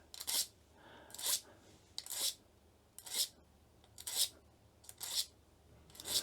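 A knife blade is drawn through a Lansky Tactical BladeMedic tungsten carbide sharpener to remove burrs. It gives seven evenly spaced, close, bright rasping strokes about a second apart, with quiet pauses between them.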